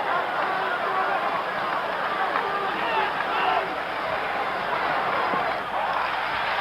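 Baseball crowd at Fenway Park during Game 1 of the 1975 World Series, Reds at Red Sox: a steady, loud roar of massed voices and cheering that fills the whole stretch without a break, dense and close.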